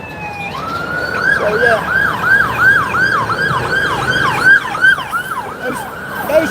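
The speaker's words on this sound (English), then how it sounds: "So there's an ambulance right there. We'll wait till it gets by." An ambulance siren passes on a road, its wailing up-and-down sweeps repeating steadily and loudly over about six seconds with traffic rumble underneath, while someone briefly speaks.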